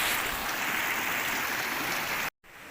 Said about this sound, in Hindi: वो देखो पानी आ रहा है।